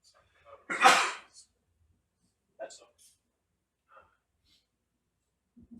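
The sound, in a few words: sneeze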